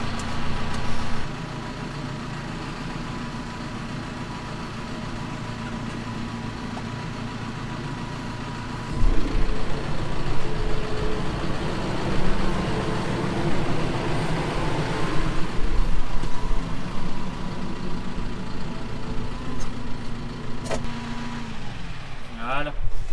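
A Claas farm vehicle rumbles at idle, then moves off after the handbrake is released, a steady low engine drone that grows louder and rougher partway through, with people talking over it.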